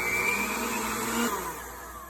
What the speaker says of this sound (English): Now I'm going to bring it up to about a 3 and a 4 to make sure that everything's really mixed in there.